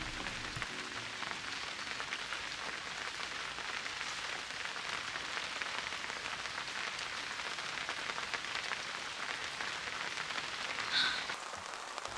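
Cold rain patters steadily on the roof and surroundings of a car parked at a campsite, a dense, even hiss with no pauses that stays constant throughout.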